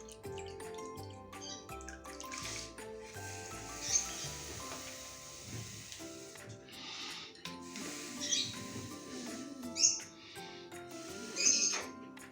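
Air blown through a cut plastic bottle into water, producing a steady stream of soft bubbling and gurgling with occasional louder pops and squeaks as foam builds, close and quiet under faint background music.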